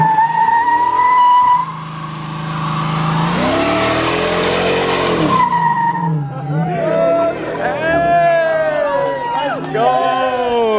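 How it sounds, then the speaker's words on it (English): McLaren 720s sports car revving hard with tire squeal, loud and close, engine notes rising and falling in repeated sweeps, with a crowd cheering and people shouting over it. "You gotta rev it up."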